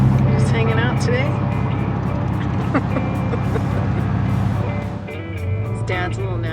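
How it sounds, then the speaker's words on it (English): Backed-up road traffic heard from a vehicle during a trip in Alaska: a steady loud engine and road drone with passing vehicle hums, easing briefly before rising again. "Wow, that's a lot of traffic that backs up."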